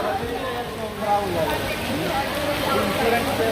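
Heavy rain pours steadily in Dubai, a dense continuous hiss and patter with voices talking over it.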